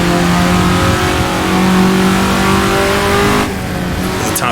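An Alfa GTA engine revving in the racing game Assetto Corsa on Italian streets, a loud steady droning roar with tonal harmonics that shifts and drops slightly near the end, as if easing off or changing gear.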